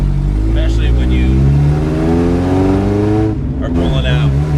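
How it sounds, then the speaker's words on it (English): A truck with a new full exhaust and Thrush muffler roars loudly as it accelerates, the engine note climbing steadily, with a voice speaking over it. "the thrush muffler is kind of loud"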